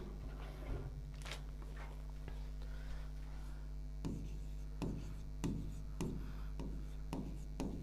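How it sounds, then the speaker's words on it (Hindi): Marker or pen writing a definition by hand during a lesson, scratching and tapping in short strokes, with firm taps near the 4 to 8 second stretch over a steady low hum; no talk. "तो इसकी डेफिनेशन लिखते हैं अपन"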